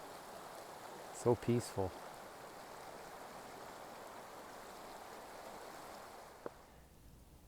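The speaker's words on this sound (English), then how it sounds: "this is the Wind River that I'm crossing" The Wind River flows steadily during a hiking crossing, a continuous rushing stream with a few brief spoken words over the water.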